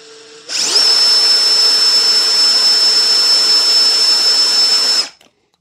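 A Fein ASCM 18 QSW cordless drill runs in first gear, spinning up sharply and holding a loud, steady high-pitched whine for about four and a half seconds before cutting off abruptly.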